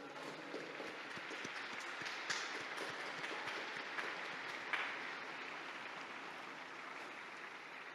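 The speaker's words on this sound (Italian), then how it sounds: "Un applauso al nuovo beato." A large crowd of Roman faithful and pilgrims at a papal address applauds a newly beatified figure, a distant, sustained wash of clapping with a few louder swells, faint and even throughout.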